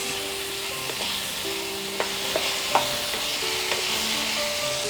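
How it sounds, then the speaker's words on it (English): Potatoes and green peas sauteing in oil in a pan over a medium flame, a steady close sizzle with occasional light stirring clicks and faint tonal hums underneath, no voices. "To this we'll add our potatoes and green peas, little salt, and we'll saute this on a medium flame for 8 minutes."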